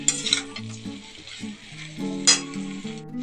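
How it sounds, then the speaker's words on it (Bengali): Mixed vegetables sizzle and fry in a pan as a spoon stirs them, with two sharp scraping strokes over a soft crackle and background music playing underneath. "সবজিগুলো দিয়ে ভালো করে একটু নাড়িয়ে দিতে হবে।"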